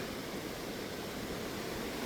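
Clear river water in the Great Smoky Mountains rushes steadily, a dense, continuous broadband wash that stays even and fairly close for the whole stretch, with no voices over it.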